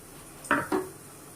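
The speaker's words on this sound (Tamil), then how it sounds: "இதை கிண்டி விட்டு நல்லா கொதிக்க விடுவோம்" Two quick metallic scrapes of a utensil stirring a pot of cooked greens, close and fairly soft, in an otherwise quiet kitchen.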